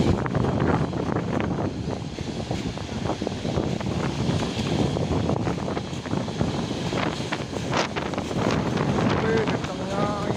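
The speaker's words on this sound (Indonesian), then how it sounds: "Kencangnya angin." Steady roaring wind buffets the microphone throughout, a dense continuous rush with faint voices and motion underneath.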